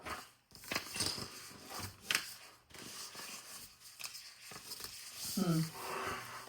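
Scissors snipping paper strips for a scrapbook page, several crisp cuts and rustles of paper at close range, with a voice speaking briefly over them.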